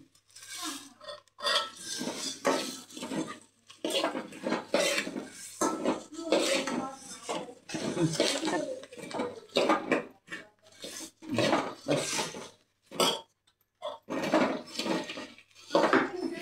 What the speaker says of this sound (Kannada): ಬಿಸಿ ಬಿಸಿಯಾಗಿ ಒಲೆ ಮೇಲೆ ಇಟ್ಕೊಂಡು, ಗ್ಯಾಸಲ್ಲಿ ಇಟ್ಕೊಂಡು ಕಲಿಸ್ತಾ ಇದ್ದೀನಿ